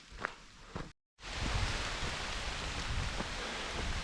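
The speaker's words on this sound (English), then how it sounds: "it started raining now" Rain falls during a solo mountain day hike, a steady, close hiss of drops on leaves and ground that follows a few footsteps and a brief dropout.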